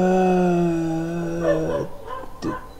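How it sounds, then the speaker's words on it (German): A dog outside gives a sustained howl that breaks into a couple of short yelping barks, loud and fairly close, with no talking over it. "was ist mal draußen mit dem Hund los?"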